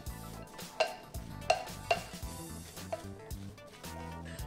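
Vegan chicken salad with onions, olive oil, lemon juice and a pinch of salt is mixed in a bowl, with soft wet stirring and a few sharp utensil clinks against the dish over background music.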